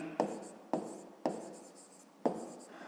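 Pen or pencil writing on paper during a fifth-grade maths exercise: four soft, scratchy strokes, each starting with a sharp onset and then fading, spaced a little under a second apart, close and quiet, with no talk.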